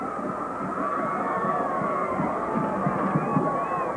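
A crowd roars at a 1994 high school homecoming football game between York and Proviso West, a steady distant swell of cheering and babble holding throughout.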